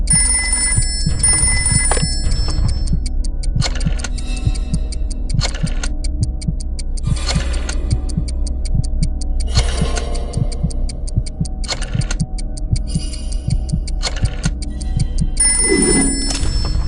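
An old rotary telephone bell rings in the Jackbox party video game, a rapid metallic trill that sounds in repeated bursts over a steady low musical backing, with brief tones in between and no voices.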